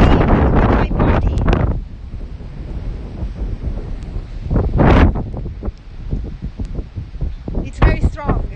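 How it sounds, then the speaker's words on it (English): Strong storm wind off the Mediterranean Sea in Liguria roars and buffets the microphone in heavy repeated gusts, loud and close, with rumbling and rustling between the blasts. "There it's quite dangerous sometimes because the wind is very strong."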